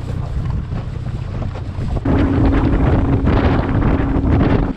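A fishing boat motors along a river, a steady engine drone with wind rumble against the microphone, growing louder and fuller partway through as the boat speeds up; no talking.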